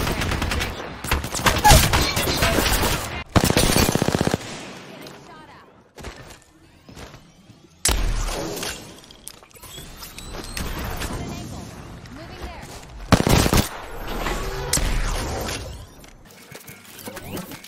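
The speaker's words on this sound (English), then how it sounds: "Could this be the worst SMG fight ever?" Bursts of rapid automatic submachine gun fire in Apex Legends with sharp impacts and gaps between volleys, game-style combat sounds, and some voices in the mix.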